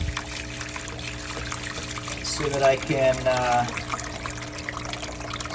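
Water pours from a fish tank into a bucket, a short trickling gush of about a second in the middle, close and moderate, with a steady hum underneath and a voice speaking briefly.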